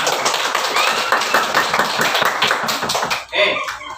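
A classroom of students claps in unison for two classmates, steady rhythmic handclaps filling the room for several seconds before stopping, with a brief murmur of voices afterward.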